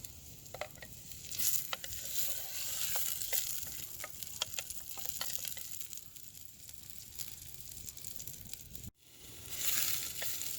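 Parsnip, carrot and tomato fry in a pan with a steady close sizzle. Soft scraping and tapping come from stirring, and there is a brief clunk near the end.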